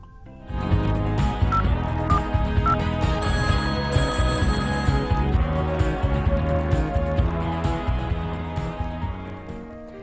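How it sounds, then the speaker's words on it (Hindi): A telephone dials and rings for a lucky caller on a radio show, a bright electronic tone pattern repeating over about nine seconds, loud and close with no speech over it. "लकी कॉल में डायल करते हैं आज के लकी कॉलर को फोन"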